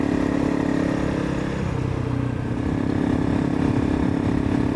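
A Honda CRF300 Rally motorcycle rides along roads with a steady engine hum and wind rush. There are slight dips in the drone and no voices.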